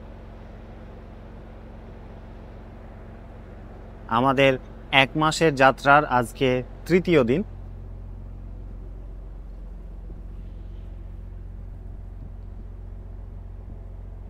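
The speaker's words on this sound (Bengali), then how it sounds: "আমাদের শিপ এখন রানিং অবস্থায় আছে এবং আমরা শিপ সামনের দিকে এগিয়ে যাচ্ছে।" A ship's engine runs at sea with its propeller turning, a steady low droning rumble throughout; someone speaks briefly over it midway.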